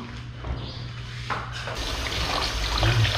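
Wild mushrooms rinsed under running water, a close, steady splashing stream from a tap that swells a little louder toward the end.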